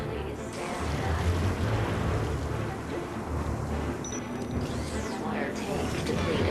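Water spray machine in the game Beyond a Steel Sky, a steady broad rushing hiss with low mechanical rumble running throughout, and a brief tonal beep partway through.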